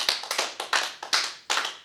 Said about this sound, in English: Clap again, this time count in your head to 5.